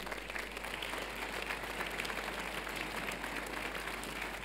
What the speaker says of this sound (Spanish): Juanjo, por favor, un aplauso.